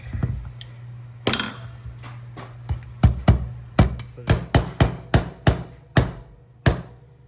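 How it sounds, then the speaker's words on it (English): A heavy hammer strikes parts of a Sig Sauer P226 .40 S&W pistol during disassembly, about a dozen sharp metallic taps at uneven intervals, close and distinct with quiet gaps between. "to want to use your hefty hammer"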